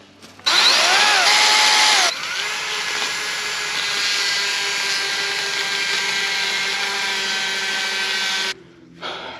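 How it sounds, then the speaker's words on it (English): A Kobalt battery-powered pole saw cuts tree limbs overhead, with a loud high whining motor buzz running continuously for several seconds, briefly pitching up at the start and cutting off near the end. "I'm just gonna cut a few limbs, test this thing out, go high"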